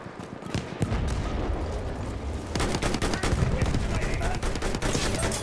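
Battlefield 1 multiplayer team deathmatch gunfire: dense, continuous volleys of shots and bursts, loud and close, heavier in the second half, with a background voice now and then.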